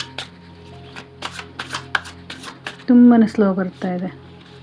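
Tarot cards being shuffled in short crisp riffles and slides, a series of quick bursts, while someone talks in Kannada over and between them.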